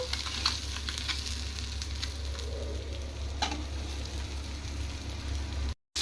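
Fish fries on a hot tawa in beach-style Nellore restaurant fashion, giving a steady dense sizzle with scattered crackles over a low constant hum, ending abruptly.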